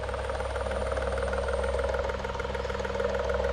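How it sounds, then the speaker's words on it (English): A 12-volt pump strains to move thick 75 weight gear oil, giving a steady, fairly close mechanical drone with a rapid pulsing throb, unbroken for a few seconds and no voices. "I'm trying with this 12-volt pump, and yeah, it doesn't normally sound like that."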